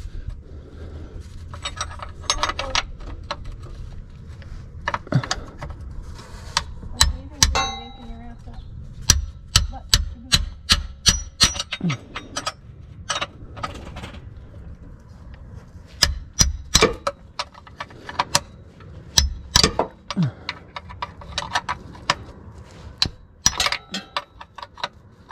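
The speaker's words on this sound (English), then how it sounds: "I'm gonna hit it with a hammer because this thing is on there tight" Sharp metallic taps ring out as a hammer strikes a tight transmission fill plug on a Corvette, dozens of close, uneven blows in clusters over a low background hum.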